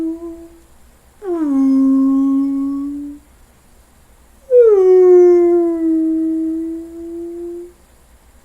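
A voice imitates a whale call with two long, moaning, sliding tones, each held for about two seconds, loud and close with a short pause between them.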